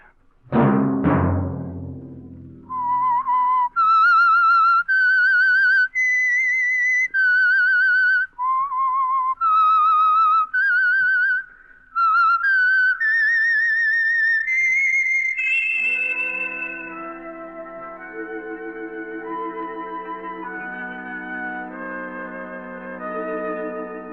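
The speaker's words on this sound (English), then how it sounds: "Let that whistle be your signal for the Signal Oil program, The Whistler, each Sunday night at the same time." Whistled signature tune of The Whistler radio drama, a lone whistler carrying a slow, eerie melody of sustained notes close to the microphone, opened by a struck chord and fading into soft orchestral music.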